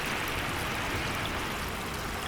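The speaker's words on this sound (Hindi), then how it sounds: "नदी का पानी गांव में दाखिल हो जाता है" Animated river floodwater pouring into a village, a steady broadband rush of flowing water like a stream or downpour, continuous and even with no voices.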